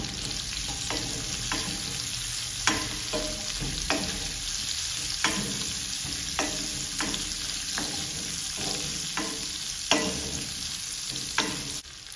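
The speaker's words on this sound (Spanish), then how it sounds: "También freímos el chile que troceamos." Chopped chile fries in a pot for a chicken stew, a steady close sizzle broken by repeated scraping stirs at a regular pace throughout, with no talking.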